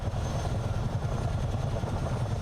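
CH-47 tandem-rotor helicopter in Microsoft Flight Simulator, its steady, dense rotor thrum and engine roar filling the whole stretch at a loud, constant level with no talking.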